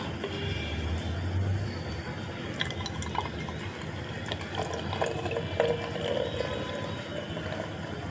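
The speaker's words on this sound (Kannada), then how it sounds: "ಈಗ ನೀರು ಹಾಕ್ತಾ ಇದ್ದೀನಿ" Water is poured into a container of Comfort fabric softener, a faint, uneven trickle and drip of liquid filling the vessel close by, with no talking.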